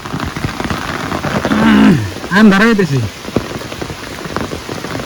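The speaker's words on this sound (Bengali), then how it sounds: "বৃষ্টি জোরে আইছে" Heavy rain pours down with a dense, steady patter on nearby surfaces, while someone speaks briefly in the middle over the downpour.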